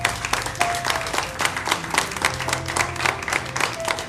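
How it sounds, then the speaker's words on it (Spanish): A church congregation claps together in a Spanish-language worship service, sustained and loud applause over faint held musical tones, with no talking. "Vamos a darle un fuerte aplauso a nuestro Dios."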